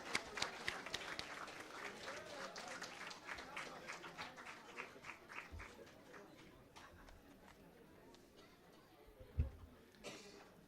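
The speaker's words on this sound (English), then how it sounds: "So please welcome him with a huge round of applause" Faint, uneven applause greets the chairperson at an international college conference, sparse hand claps from a moderate crowd that thin out over several seconds, with a few louder thumps near the end.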